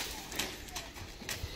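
Hooves of a horse clop faintly on the ground in an uneven rhythm at a distance, with a voice talking over them.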